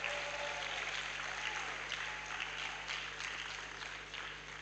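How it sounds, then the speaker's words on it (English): Sustained applause from an audience at a university matriculation ceremony, a steady broadband wash of many hands clapping at moderate distance with no voices over it. "Please let's give him a round of applause."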